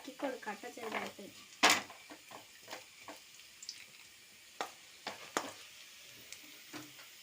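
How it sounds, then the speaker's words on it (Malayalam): Crushed garlic and shallots fry in coconut oil in a pan, a soft steady sizzle with scattered sharp crackles and one loud burst early on, while a voice talks over the cooking. "ചീനിച്ചട്ടിയിൽ കുറച്ച് വെളുത്തുള്ളിയും ചുവന്നുള്ളിയും ചതച്ചിട്ട് വെളിച്ചെണ്ണ ഒഴിച്ച് നന്നായിട്ട് വെന്ത് വരട്ടെ."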